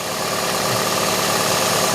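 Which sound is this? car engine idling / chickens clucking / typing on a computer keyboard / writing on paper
car engine idling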